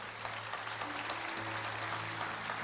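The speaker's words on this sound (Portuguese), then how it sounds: "Se quer aplaudir, aplaude bem forte" A church congregation applauds loudly, a dense, even wash of clapping that holds throughout with no speech over it.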